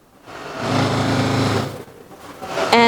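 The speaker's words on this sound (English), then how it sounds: "they are cutting leathers here." An automatic leather-cutting machine runs in a Chinese luxury furniture factory, a steady mechanical whirring hum that rises, holds, then eases off, followed by a short electronic beep.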